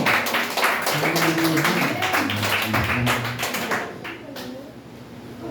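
A church congregation clapping during praise and worship, a dense run of rhythmic hand claps mixed with voices and talking, easing off near the end.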